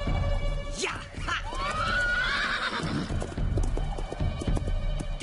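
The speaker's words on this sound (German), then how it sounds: "Nun gehörst du mir, kleines Pferdchen." A cartoon horse whinnies loudly in a long rising and falling neigh, with hooves clip-clopping through the scene amid busy animated action.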